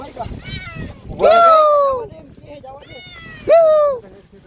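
A cat meows twice, loud and close, each a drawn-out, falling call with a pause between them over a faint background.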